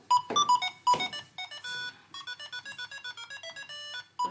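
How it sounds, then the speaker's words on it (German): A mobile phone rings indoors on a theatre stage set, a repeating electronic ringtone of rapid bright tones sounding loud and near, with no talking over it. "Dein Handy?"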